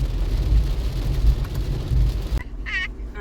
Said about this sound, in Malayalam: അമ്മാതിരി ഇടിവെട്ടും മിന്നലുമാണ്.